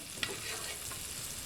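Food browning in a frying pan gives a steady close sizzle and crackle, with a brief sharp clink near the start and no talking over it.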